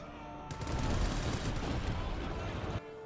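Continuous machine gun fire in the Company of Heroes 2 strategy game, a dense, loud rattling burst lasting about two seconds, starting and stopping abruptly over faint background tones.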